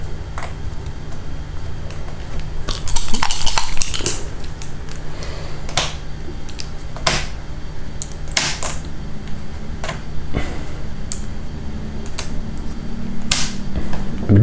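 Wooden or plastic board game pieces for La Cathédrale Rouge rattle and clack as they are mixed, a dense burst of clicks near the start followed by scattered sharp taps, close and loud.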